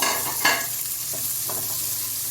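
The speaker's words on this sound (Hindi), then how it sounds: "उसके बाद हम इसमें प्याज और हरी मिर्चें जो है वो शामिल कर देते हैं" Onions and green chillies frying in a pan, a steady soft sizzle with a couple of brief stirring scrapes near the start, close and alone with no talk.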